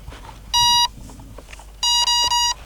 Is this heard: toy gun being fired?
no